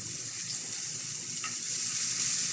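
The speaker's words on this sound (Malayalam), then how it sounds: "അപ്പോൾ അതിലേക്ക് ഉള്ളിയാണ് ഇടുന്നത് കേട്ടോ" Onions dropped into a hot pan of oil for a meat curry fry with a steady, close sizzling hiss that swells slightly toward the end, with no voices.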